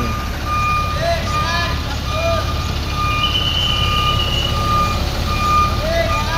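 A truck reverses in tight quarters, its reversing beeps repeating at a steady pulse over a loud, constant engine rumble, with people talking nearby.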